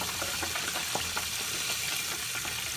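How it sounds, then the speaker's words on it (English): Chicken frying in hot grease with moisture in the oil: a steady, loud sizzle with sharp pops and small crackling bursts scattered throughout, and no talking. "there's some explosions in the grease. It's what happens when H2O makes its way into the grease."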